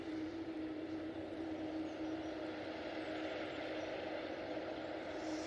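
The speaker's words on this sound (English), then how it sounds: "Out next, this Easyjet A320 off to Belfast" An EasyJet Airbus A320 departs Manchester Airport, heard as a faint, distant, even engine rumble with a low steady hum and no talking.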